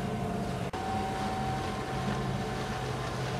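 A Ferrari tractor drives a PTO mower mulching vegetation, a steady low engine drone with a constant mechanical whine and broadband rumble, near and continuous with one brief dropout.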